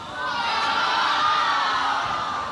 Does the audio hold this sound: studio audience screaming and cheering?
yes